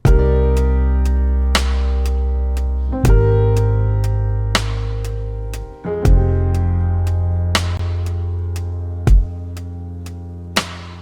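A level-one R&B beat with a simple bass line that only plays root notes, under sustained chords and a steady hi-hat tick, with a heavy low note dropping in every few seconds; no voices.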